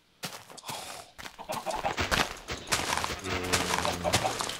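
A chicken clucking in the Minecraft video game, with repeated short clucks among busy game sounds and rapid clatter, close and fairly loud, with no talk.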